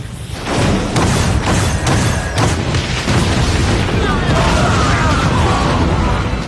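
Cannon fire in a battle scene from a historical drama erupts in heavy booming blasts that fill the soundscape, with rolling rumble and debris-like crackle sustained throughout, loud and close.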